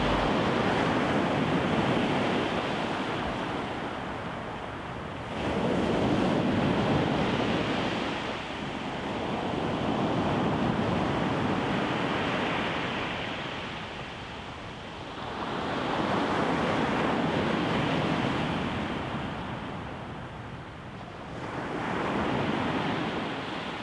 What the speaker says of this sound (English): The next task is getting through the rough surf to get out into the open ocean.